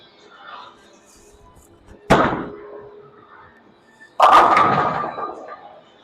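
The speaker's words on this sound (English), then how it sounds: "You can see the pins just explode, the pin action on that." A bowling ball slams into the pins during tournament practice at a bowling alley. Two loud, sharp crashes land about two seconds apart, each trailing off in a clattering decay, with the second crash fuller and longer.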